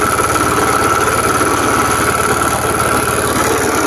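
A Honda Vario 110 motorbike with a carburetor idles, a steady close-up putter with a fast even pulse and a constant buzzing hum, no speech.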